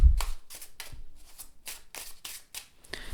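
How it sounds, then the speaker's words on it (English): Magical Creatures tarot cards with medium-weight cardstock are shuffled close up, a quick run of about eight crisp riffling bursts with short gaps between them and no talking. "beautiful shuffle"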